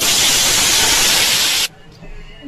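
A loud, harsh hiss of saffron-coated potatoes frying in hot mustard oil roars close up, then cuts off abruptly, leaving a faint background.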